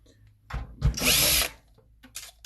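A power drill backs screws out of an old computer case in one short, close whir of about half a second, between quiet handling noises.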